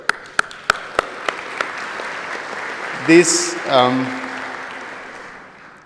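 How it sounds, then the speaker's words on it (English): A handful of sharp, scattered claps from a technical plenary audience fade out within the first two seconds, followed by a voice speaking over light room noise. "we deserve a bigger round of applause"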